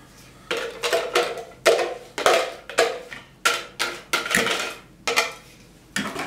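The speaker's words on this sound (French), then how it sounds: "Je mélange." A utensil stirs vanilla-infused milk in a bowl with a regular run of loud scraping, clinking strokes, about two per second.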